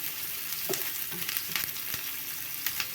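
Onions fry in hot oil with a constant close sizzle and scattered sharp pops and spatters, alone with no voices.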